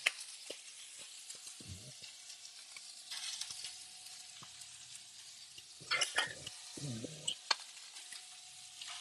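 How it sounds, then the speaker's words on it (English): Steak and onions sizzle on a griddle for Philly cheesesteaks, a steady hiss of frying with scattered clinks and scrapes of a spatula. "So we've got our steaks out here. We're going to add some onions."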